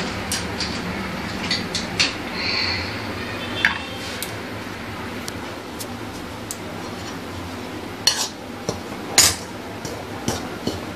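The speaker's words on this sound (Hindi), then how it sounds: "देखिए मैं बेसन डाल दी हूँ इसमें एकदम कम फ्लेम में इसको भूनना है" Gram flour (besan) is dry-roasted without ghee in a pan on a very low flame while being stirred. Faint, scattered clinks and taps of the utensil against the pan stand over a quiet scraping background.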